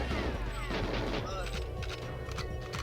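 Gunfire from GoldenEye 007 on the Nintendo 64, Mission 4 Surface: rapid automatic bursts and crashing shots fill the clip loudly and continuously.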